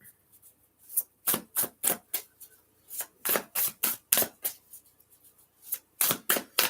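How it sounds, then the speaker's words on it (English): Tarot cards being shuffled in quick riffling bursts, a dozen or so crisp flurries in uneven rhythm, close and fairly loud with no talking. "One more shuffle."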